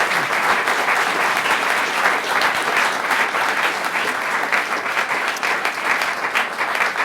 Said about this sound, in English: Do a nice little round of applause.